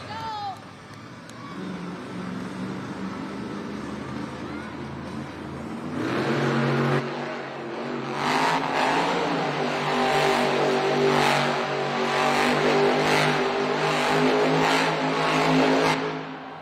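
The Velociraptor monster truck's engine revs at a Monster Jam event in an arena, a loud roaring drone that swells and surges in repeated bursts over crowd noise while an announcer talks.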